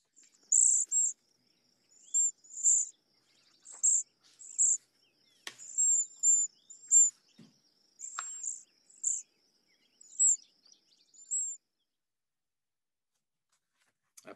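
A common southwest Ohio bird sings alone in the open. Short, bright, repeated phrases come at a regular pace and stay clear and close, with faint clicks in the background.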